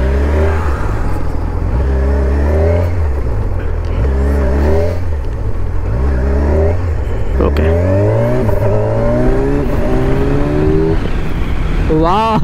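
Kawasaki Ninja 1000SX inline-four sport motorcycle in sport power mode, accelerating hard through several gears, the engine note rising and dropping with each shift, loud and close throughout while a rider talks over it.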